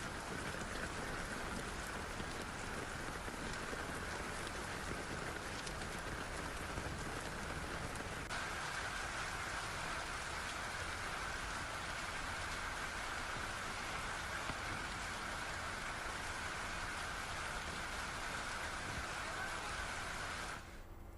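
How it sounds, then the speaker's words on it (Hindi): Heavy monsoon downpour with hail pours down in a dense, unbroken roar that holds steady throughout with no voices. "झमाझम बरसात के साथ साथ आपको ओले भी नजर आएंगे।"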